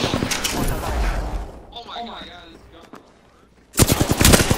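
Rapid automatic gunfire bursts in the video game Apex Legends on Xbox One, loud and dense at the start, fading to quiet, then a fresh burst of rapid shots, with voices talking over it.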